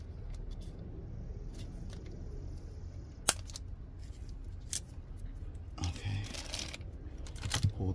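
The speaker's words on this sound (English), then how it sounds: "I'm gonna cut this off." Snips and sharp clicks from cutting the old fuel level sensor off a BMW X5 E70 fuel pump assembly, a few isolated cuts and plastic snaps close by over quiet room noise.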